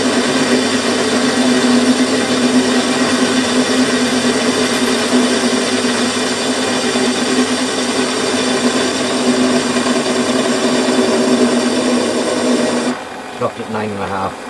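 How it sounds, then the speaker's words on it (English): A metal lathe in a home shed takes a 3mm facing cut with a very fine hand tool, giving a loud, steady whirring hum with a constant pitch that cuts off abruptly near the end, followed by brief clatter. "Taking about a 3mm cut here across the face,"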